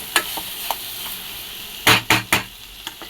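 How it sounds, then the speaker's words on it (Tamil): Soft scraping and clinks of a utensil stirring chicken liver pepper masala in a pan, with a few louder knocks near the end over a light sizzle. "இப்போ நல்லா நம்ம இதை கலரிக்கலாம்"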